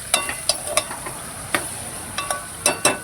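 Eggplant pieces sizzle in a hot pan while a spoon scrapes and stirs them, sharp clinking strokes repeating irregularly over a steady close frying hiss.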